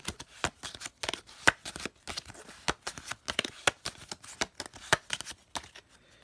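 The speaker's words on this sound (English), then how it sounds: "Then what you're going to do is you're going to shuffle the cards." A deck of playing cards being shuffled during a magic card trick, a rapid series of crisp riffling snaps and flicks, close and fairly quiet, with no talking.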